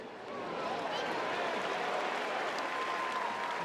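A large stadium crowd of about 55,000 at Dodger Stadium during a 2025 MLB playoff game against the Phillies gives dense, sustained applause and cheering, steady and loud throughout.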